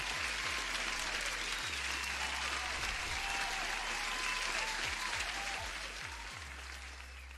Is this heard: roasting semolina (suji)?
no